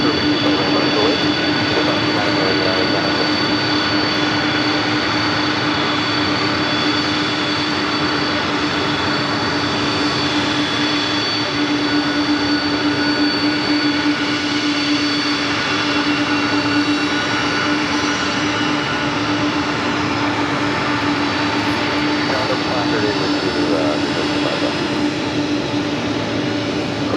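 A heavy jet airliner departs a parallel runway at Los Angeles LAX, its engines making a loud, continuous roar that holds steady for the whole stretch, heard from the airport's edge.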